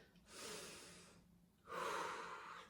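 Slow, deep breathing during a judo mobility and flexibility stretch, two long airy breaths close to the microphone separated by a short pause, with no talk.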